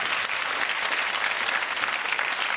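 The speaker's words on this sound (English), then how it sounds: "Round of applause for Joe" Studio audience applause on a UK game show, a dense, steady clatter of many hands held at an even level for a couple of seconds with no voices over it.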